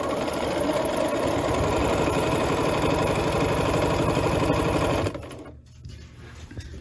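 A sewing machine stitches a McCall's 8220 top at high speed, a loud, steady rapid mechanical chatter for about five seconds before stopping abruptly, leaving a quieter hum.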